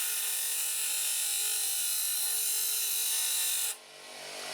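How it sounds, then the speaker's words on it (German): A grinding wheel shapes a homemade guitar pick, a loud, steady abrasive rasp that runs continuously for most of the moment, then cuts away sharply, leaving a quieter lingering hum from the machine. "ich versuche immer mit der Kante des Schleifers oder des Schleifrades"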